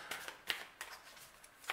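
Oracle cards being shuffled by hand, giving a series of soft, papery riffles and flicks with a few sharper snaps, close and fairly quiet, with no talking.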